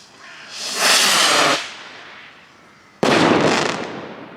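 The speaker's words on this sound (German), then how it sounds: "Hier noch meine symbolische Rakete für 2020." A New Year's firework rocket whooshes up with a rising hiss, then a sharp crackling burst follows a moment later, loud and close in open air.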